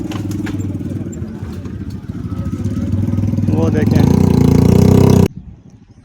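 A motorcycle engine runs steadily while the rider sits on the bike escorting loaded rickshaws, its rumble building louder toward the end before cutting off, with someone talking over it throughout.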